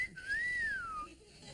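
A single sliding whistle from an audience member at a late-night talk show, rising and then falling over about a second, clear and fairly close, with no talk over it.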